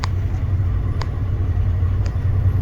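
A farm truck hauling a load of soybeans in Nebraska rumbles steadily from inside the cab, a loud, continuous low engine drone with faint periodic clicks and no talk.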